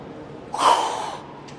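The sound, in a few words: forceful breath out during abdominal crunch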